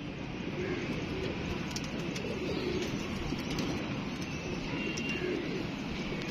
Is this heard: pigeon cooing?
yes